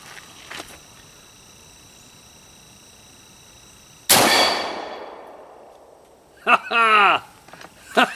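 Serbu BFG50 Mk II .50-caliber rifle fired at steel downrange: one huge close blast with a long rolling decay, then distant metallic ringing from the target, with a voice speaking after the shot.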